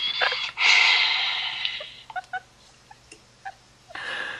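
A person snores over a Skype call: a loud, rough snorting breath up front, then a few short snuffling catches and faint clicks as the breathing settles.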